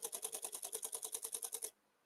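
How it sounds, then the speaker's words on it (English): An OM-1 camera's mechanical shutter fires a rapid sequential burst of about sixteen evenly spaced crisp clicks. The clicks are close and clear and stop abruptly into near silence. "select that mechanical burst mode just here, sequential burst mechanical shot"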